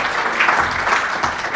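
A conference audience at a programming talk on Test::Class::Moose claps steadily, a dense, close burst of applause filling the short moment without voices.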